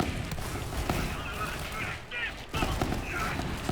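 Bursts from the Bearcat weapon in the video game Borderlands 3, a dense, continuous crackle of rapid shots and pops with a short lull midway, moderately loud and mixed with a voice talking underneath.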